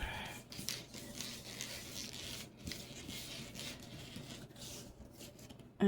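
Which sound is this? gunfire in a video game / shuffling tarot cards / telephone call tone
shuffling tarot cards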